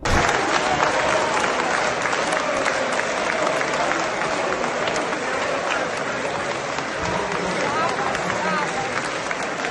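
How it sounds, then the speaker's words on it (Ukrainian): A parliament chamber fills with steady, loud applause from many people after a vote, with crowd murmur mixed in throughout. "Ухвалене рішення рада зустріла оплесками"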